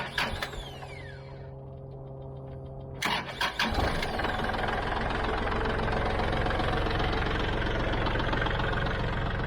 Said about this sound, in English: I'm going to run the motor just for a little bit. Let it get warm and let it circulate.